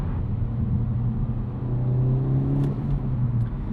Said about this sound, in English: As far as the way this car sounds, I've never loved the way a K20 sounds